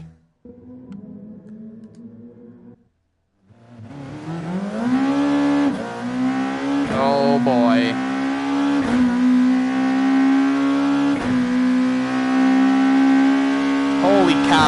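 A GT500 Super GT race car engine in GT Sport fires up after a brief quiet gap and revs hard, with a loud, sustained high whine rising through repeated gear shifts. A short remark is spoken near the start.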